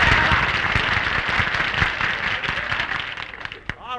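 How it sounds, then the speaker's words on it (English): Studio audience applause on a vintage comedy radio program, a thick wash of clapping that holds steady then thins out near the end, with a few crowd voices mixed in. "Applaud me, folks."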